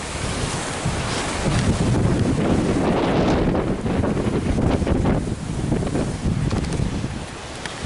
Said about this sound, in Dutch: Maar de wind is niet gaan liggen.